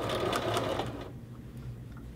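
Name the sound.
sewing machine stitching hoodie neck facing seam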